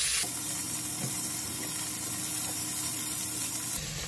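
A pot of water coming to a boil on a home stove gives off a steady, continuous hissing bubble that stays at an even level and runs alone, with no talking.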